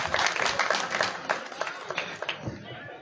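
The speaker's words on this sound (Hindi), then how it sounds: "जोरदार तालियों से स्वागत करें" Dense, loud applause from a village audience welcoming a project director at the inauguration of a synthetic turf hockey field in Baijalpur, Haryana, steady clapping that thins out slightly toward the end with voices underneath.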